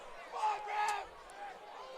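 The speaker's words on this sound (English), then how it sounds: "the crowd is not happy about this ALA defense" Football game crowd in the stands groaning and murmuring unhappily, a broad wash of many voices that swells twice and eases back, steady and fairly distant.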